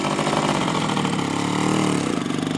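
A DKW RT 125 motorcycle engine runs in second gear, a close, steady single-cylinder putter with a rapid even pulse and a slight rise in pitch partway through.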